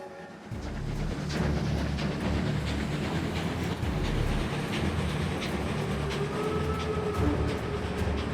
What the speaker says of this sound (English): Put a 3 in the chat if you heard the Kismet Love Train that time.